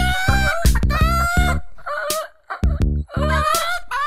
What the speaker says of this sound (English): There's a chicken in my backseat.